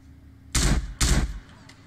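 Two loud, close gunshots in the video game GTA San Andreas, sharp blasts about half a second apart, each fading in a short rumbling tail over a quiet background.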